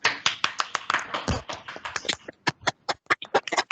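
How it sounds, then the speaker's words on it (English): An audience claps at a virtual 99th group birthday celebration for a scout troop. The applause is uneven and crisp, with individual hand claps clearly separated and thinning toward the end. "Louder claps please for both of them."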